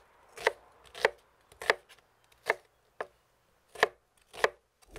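Onions being cut lengthwise with a knife on a board for medieval onion soup, about eight crisp, close chops in an uneven rhythm with quiet gaps between.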